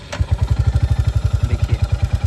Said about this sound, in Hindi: जैसे हम अभी गाड़ी स्टार्ट करेंगे